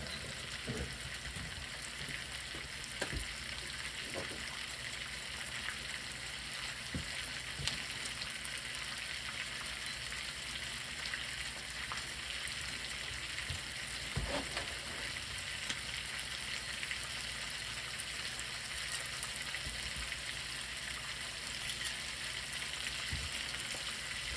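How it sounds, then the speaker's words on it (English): Continuous soft sizzling from a frying pan, an even hiss that holds for the whole stretch, dotted with faint pops and ticks. "The one in the background there is just sizzling bad."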